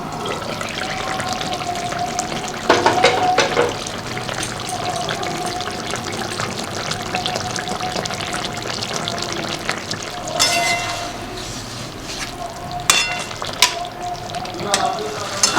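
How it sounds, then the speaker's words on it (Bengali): A pan of fish curry with lentil dumplings (bori), made with pomfret, bubbles and simmers steadily, with brief stirring and pouring bursts rising over the continuous cooking noise and no talk. "ঝোলটা ফুটে গেছে, এবার আমি একটুখানি কমিয়ে দেব।"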